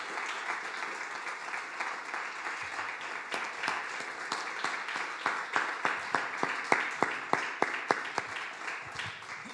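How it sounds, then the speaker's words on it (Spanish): Applause from a church congregation after a prayer, a steady wash of many hands clapping that grows sharper toward the end, with individual loud claps standing out in a rhythmic run. "Dile un aplauso al Señor"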